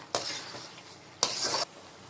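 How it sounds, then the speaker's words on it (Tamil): Chicken fry in a pan, just dusted with crushed pepper and cumin, gets two short rounds of stirring, each a close, loud scraping sizzle, separated by a quiet pause. "ஆட் பண்ணிக்கிட்டு நல்லா கிண்டி விட்டுக்கோங்க"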